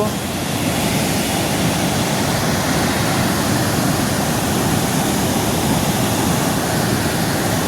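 Water gushes through the opened gates of Mokeshwar Dam on the Saraswati River, heard from the bridge as a loud, unbroken roar with no pauses.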